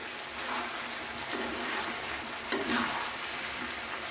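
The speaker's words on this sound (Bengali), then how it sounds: "এইভাবে তলা থেকে নাড়িয়ে নিচ্ছি" Chicken feet curry being stirred from the bottom of a cooking pan, a steady low sizzle with soft scraping sweeps of the spoon at intervals, close and fairly quiet.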